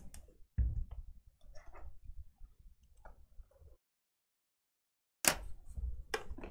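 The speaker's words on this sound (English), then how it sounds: "I'm just going to cut through these stickers" A blade cutting through stickers on a sealed baseball card box case, giving faint close clicks and small scratchy ticks, then a pause of silence before louder crackling handling sounds.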